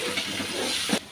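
Garlic and ginger paste frying in oil for chicken haleem, a steady broad sizzling hiss that swells briefly near the end, then cuts off abruptly at about one second.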